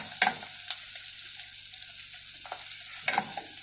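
Onions frying in a pan give a steady sizzle, broken by a few scraping stirs near the start and again toward the end, all close up with no talking.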